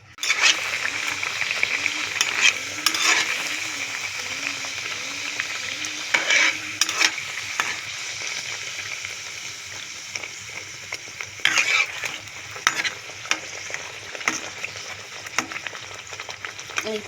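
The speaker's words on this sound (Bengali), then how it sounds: "মিডিয়াম ফ্লেমে খুব সুন্দর হচ্ছে লুচিগুলো।" Luchi puffed flatbreads sizzle in hot oil over a medium flame with a steady crackling hiss. Occasional louder splashes and scrapes come as the breads are turned.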